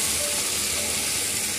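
Boiled peas and potatoes, cooked with salt and turmeric, go into a hot pan and sizzle loudly and steadily, a dense close frying hiss with no talk over it.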